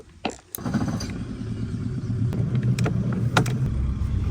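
A fishing boat's engine starts after a few knocks and settles into a steady low rumbling idle, with occasional sharp clanks and taps over the running motor.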